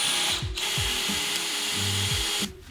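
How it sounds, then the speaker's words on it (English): A drill bores a second hole in wood, giving a continuous whirring, grinding buzz with a rhythmic ratcheting pulse underneath. It runs steadily close by, briefly dips near the start and stops abruptly at the end. "Drill a second hole."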